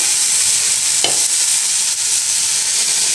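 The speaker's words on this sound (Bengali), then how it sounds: "লাউয়ের যে খোলাগুলো হয় সেই খোলাগুলো ভাজা" Bottle gourd peels fry in a pan with a steady, loud hiss of oil and a single faint stir or tap. No voices are heard.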